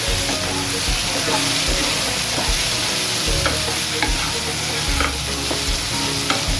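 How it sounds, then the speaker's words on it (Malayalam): Soya chunks coated in masala are stirred in a hot pan, with a steady sizzle from the frying and repeated scraping strokes of the spoon against the pan, loud and close. "അപ്പം ഞാൻ നല്ലപോലെ ഒന്ന് ഇളക്കുവാണ്."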